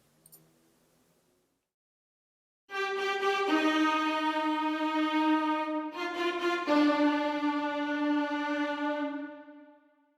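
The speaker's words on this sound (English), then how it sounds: "let's hear only Violins 1" Sample Modeling solo first violins play the opening of Beethoven's Fifth Symphony, with sustained, bright bowed notes that begin after a short silence and change pitch a few times before fading out.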